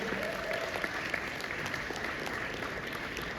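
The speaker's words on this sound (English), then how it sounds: "a round of applause to XL ki Kuriyan" An audience at an alumni award ceremony claps in a steady, dense round of applause, moderately distant and even throughout.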